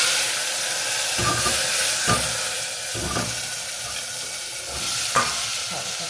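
Cluster beans (guvar) sizzle in hot oil with asafoetida, mustard seeds and cumin, a loud, steady hiss broken by several scraping stirs of a spoon in the pan.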